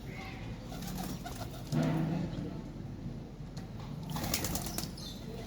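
A pet Kabli pigeon in a Karachi loft gives a brief burst of wing flapping with soft cooing, close by against steady outdoor background noise, with voices talking faintly.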